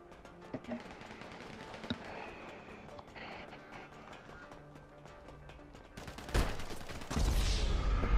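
Gunfire in GTA V Online during a turf battle: scattered shots and short bursts crackling through the whole span, with heavier blasts near the end, mixed under game sound and a player talking.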